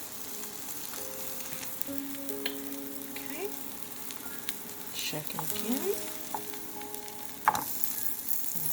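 Steady frying sizzle of spaghetti ingredients in a pan crackles under the clip, with brief scrapes and stirring clatter and a short spoken remark near the end.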